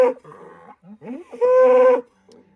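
Cows low outdoors in several separate calls, one long loud moo near the middle standing out clearly; the calls are close and there is no talking.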